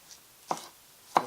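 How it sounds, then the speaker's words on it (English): Vegetables being rough-chopped for gazpacho, a cold soup, with a knife on a cutting board: two sharp, isolated chops about half a second apart, close and fairly quiet, in an otherwise still kitchen. "Rough chop them."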